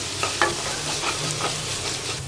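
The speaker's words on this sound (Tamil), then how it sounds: "கருவேப்பிலை, பொடியாக கட் பண்ணி வச்சுருக்கிற வெங்காயம் நல்லா வதக்கிக்கலாம்" Curry leaves and finely chopped onion sizzle in hot oil in a pan while being stirred for carrot beans poriyal, a constant frying hiss with occasional scraping strokes and small pops.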